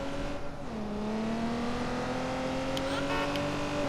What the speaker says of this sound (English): Oh, this is my nasty sports car that I got. It goes fast.